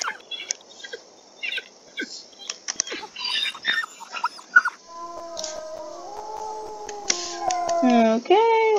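Wolf howling in the WolfQuest video game, with scattered yips and whimpers early on before long, rising and falling howls sound close and loud toward the end.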